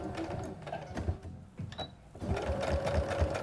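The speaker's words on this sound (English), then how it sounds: "we're pretty much almost sewing like right on the edge of the fabric." A sewing machine stitches along the edge of pant fabric in quiet, rapid bursts of mechanical whirring and clicking, pausing briefly midway before resuming at a steady pace, close by.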